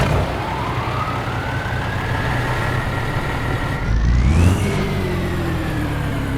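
A Freightliner FLC truck in American Truck Simulator idles and revs from the outside, a continuous engine drone that rises in pitch once, settles, then holds steady.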